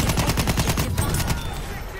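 Rapid bursts of support weapon fire in Battlefield 1, a fast rhythmic string of close, loud shots for over a second, then trailing off.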